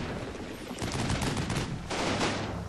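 Tank guns and gunfire in the war game Combat Mission rattle in dense, loud bursts, two sustained volleys of rapid shots with a brief lull between them.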